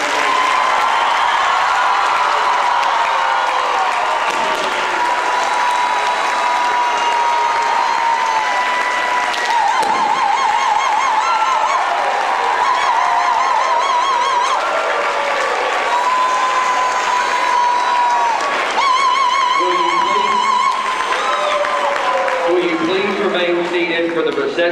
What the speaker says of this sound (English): Will everyone please join me in a round of applause to congratulate you?